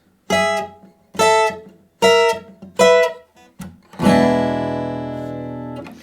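Acoustic blues guitar outro in E from a 12-bar shuffle: four short, punchy chord stabs spaced evenly, then a final chord left to ring out and slowly fade, played close and alone.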